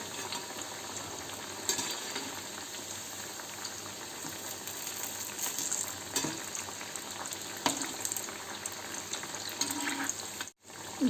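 Coriander fritters (kothimbir vadi) frying in oil over a low gas flame, giving a faint, steady sizzle and bubbling with occasional small crackles and no talking.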